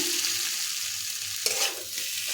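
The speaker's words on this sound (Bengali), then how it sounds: "পটলের সাথে খুব ভালো করে আলু কুচু কষিয়ে নিতে হবে" Potato and pointed gourd sautéing in oil, a dense continuous sizzle with a brief scrape of stirring near the middle, close up and without any voices.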